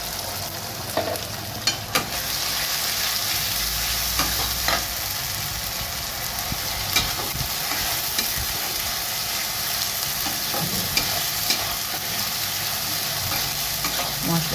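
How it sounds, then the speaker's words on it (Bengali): About five or six spoons of masala paste fry with reddened onions in a pan for chicken maharani, giving a steady, close sizzle broken by occasional scraping stirs. "আমি কিন্তু মশলাটা ভাজবো, কষবো"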